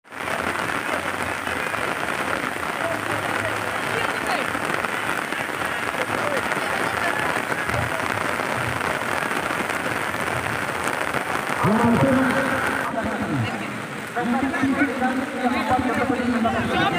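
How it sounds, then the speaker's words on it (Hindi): Rain falling at a crowded village fair in India, a steady broadband wash of drops under loud, continuous crowd chatter and nearby voices, with people talking throughout. "बारिश शुरू हो गया इधर।"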